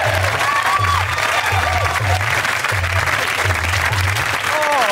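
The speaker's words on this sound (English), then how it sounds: "A big round of applause for Les!" A studio audience at a TV comedy variety show applauds loudly and steadily the whole time, a dense wash of clapping with a low, pulsing music beat running underneath.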